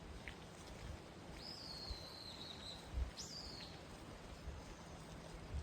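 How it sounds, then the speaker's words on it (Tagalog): A couple of faint, thin bird calls ring out over a quiet mountain afternoon background, brief whistled chirps spaced a second or two apart. "Yung huni ng ibon."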